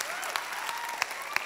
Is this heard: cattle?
no